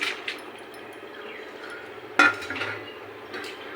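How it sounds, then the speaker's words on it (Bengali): Pasta tipped into a pan and stirred, giving a sharp metallic clink partway through, then scraping and knocking of utensil against the pan with soft clatter, close and without talk. "পাস্তাটা ঢেলে এখন নাড়াচাড়া করে অল্প অরিগানো পাউডারটা ঢেলে দিব"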